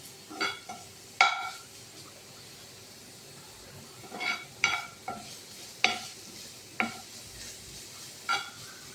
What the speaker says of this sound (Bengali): পুরোটা ঘিয়ে ভাজা হবে।